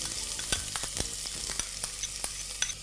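Finely chopped red onions frying in a pan with steady sizzling and crackling, broken by repeated sharp scrapes and taps of a spoon stirring, close up and with no voices.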